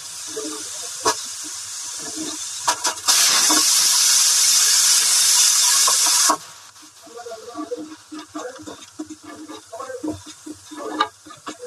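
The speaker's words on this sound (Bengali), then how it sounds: "অল্প অল্প করে জল দিয়ে আর এটাকে নাড়া করতে হবে।" Water splashed into a hot pan of cooking food for a meal bursts into a loud, sharp hiss that lasts a few seconds and cuts off. Irregular scraping and stirring sounds of a spatula in the pan follow.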